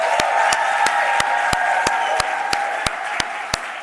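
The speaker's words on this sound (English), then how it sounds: "I think we should give her one last round of applause" A room of symposium attendees applauding, a broad clapping texture over a steady tone, punctuated by a regular series of sharp, evenly spaced clicks.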